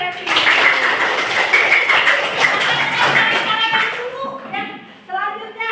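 A class of pupils claps hands in the classroom, a dense burst of clapping for about four seconds that then stops as a voice starts talking.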